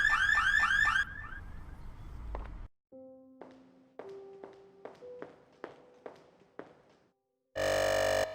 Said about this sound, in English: I must be off to my car. My alarm just went off.